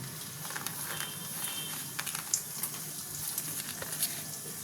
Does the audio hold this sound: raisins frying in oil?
yes